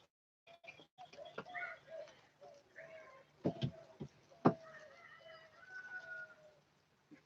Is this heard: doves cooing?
yes